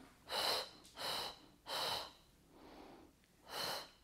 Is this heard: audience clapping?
no